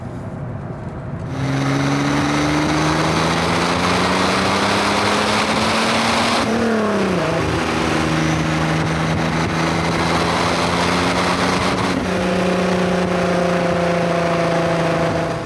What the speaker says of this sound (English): It's a PRV engine in the back, which is a very common power plant in a lot of French cars of the time